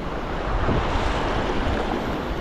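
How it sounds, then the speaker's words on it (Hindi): The Naran River in Pakistan's Naran valley, near Naran town, rushes in a loud, steady, broadband roar close by, with no pauses, no talk, and a touch of wind. "ये है जी नदी नारान की।"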